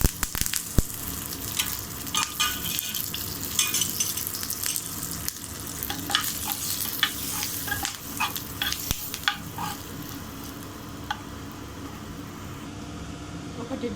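Curry leaves and turmeric sizzle in hot oil for a peanut chutney tempering, with the stove just switched off. Steady frying crackle runs throughout, with sharp pops in the first ten seconds and faint talk underneath.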